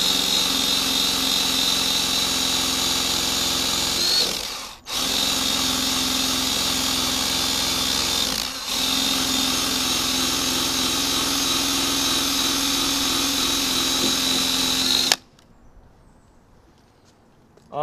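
A power tool spins a wheel against a car's body to remove stickers, a loud steady high-pitched whir broken by two brief drops in speed, then cutting off to near silence near the end.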